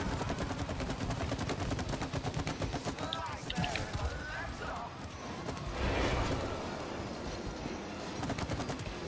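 Rapid gunfire from a video game shooter rattles steadily throughout, with dense bursts of shots, while voices talk over the action.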